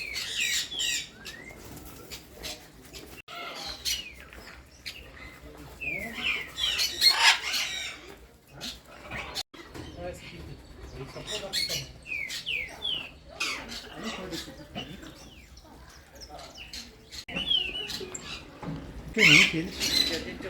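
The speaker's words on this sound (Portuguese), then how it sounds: "Essa aqui é a arara canindé." Blue-and-yellow macaws screech and squawk in harsh, scattered bursts at a bird zoo in Poços de Caldas, Brazil, mixed with other bird calls, rustling and wing noise, with people talking now and then.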